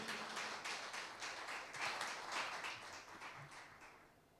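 A church congregation claps for several seconds at a service, a soft, even wash of many hands that fades slightly toward the end.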